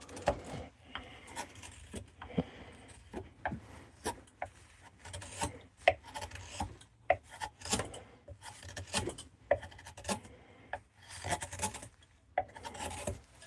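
A knife carves shavings from a wooden bowl in short, irregular scraping strokes, close and crisp, each cut a separate rasping rub with brief pauses between.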